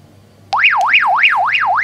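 An electronic warbling alarm tone from a Baofeng UV-5R two-way radio starts abruptly and sweeps up and down in a steady, rapid cycle, loud and close.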